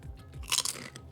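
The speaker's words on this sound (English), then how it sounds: "Listen how crunchy these chips are." Chips are crunched close to the mic in a quick burst of crisp bites and chewing, peaking sharply once and then fading into quieter munching.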